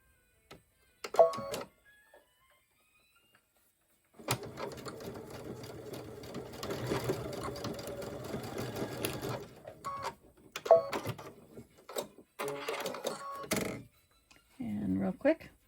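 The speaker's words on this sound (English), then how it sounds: "Okay, sewing the other side, getting this lined up on the 1/4." A sewing machine stitches the side of an unlined zipper pouch in two runs, a fast, close, buzzing whir broken by short pauses and clicks, with someone talking between runs.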